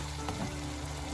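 Ginger and garlic frying in hot oil for shrimp kofta malai curry, a dense steady sizzle with a faint stir partway through, close and uniform over a very short stretch, with no voices.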